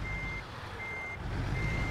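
A truck backs up in American Truck Simulator, a day cab hauling a trailer, its reversing alarm sounding steady repeated beeps over a constant low engine rumble.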